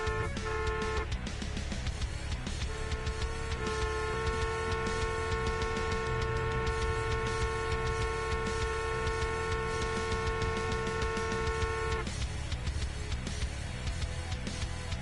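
Car horns honk repeatedly in the Taxi Life driving game, a long sustained blast stretching several seconds between shorter toots, loud over dense traffic and engine noise.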